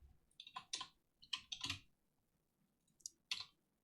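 Short bursts of typing on a computer keyboard during a live coding session, with quick clusters of crisp, close keystroke clicks separated by quiet pauses.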